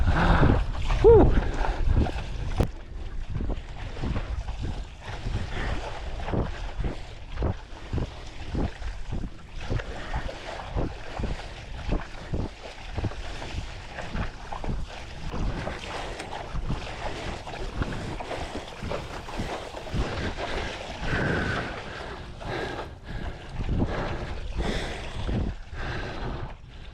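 Hard zone 4 paddling strokes in a boat on open water during race training, a steady rhythmic series of splashing pulls with wind buffeting the microphone and heavy breathing between strokes.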